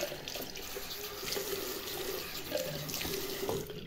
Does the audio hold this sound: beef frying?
no